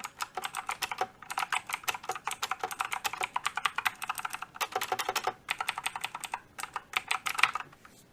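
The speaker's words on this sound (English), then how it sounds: "you probably want to know how the blue switches sound, so here comes a typing test for you guys" Rapid, steady clicking from typing on a HAVIT mechanical keyboard with blue switches, close and crisp, with brief pauses between bursts of keystrokes and no voices.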